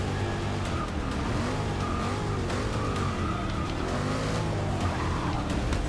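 Race cars drift in Forza Motorsport 6, engines droning loudly and steadily while tyres squeal and skid throughout, forming a continuous dense wash of motor and tyre noise with no talk.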